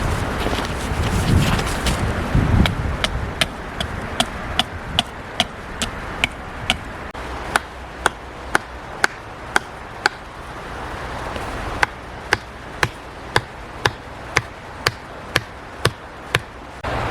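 Chopping wood with a new Fiskars camping axe at a winter tarp camp beside a creek, a long series of evenly spaced sharp chops ringing out over gusting wind noise.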